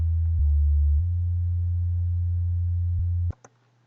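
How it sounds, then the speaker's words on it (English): A low, steady sub bass synth note from a song being made during a live stream, holding for over three seconds with a brief pitch shift near the start, then cutting off abruptly into near silence and a faint click. "then I also have my little sub bass"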